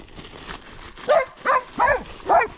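Mia, a pet dog, gives four short, evenly spaced barks or yelps close by, after a softer sound at the start, during an enduro motorcycle outing.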